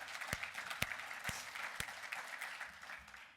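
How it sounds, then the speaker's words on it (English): Faint, distant clapping from an audience at a summit breakfast in Oregon, a soft wash of applause punctuated by a few loud nearby claps, then tapering off. "we should clap for that"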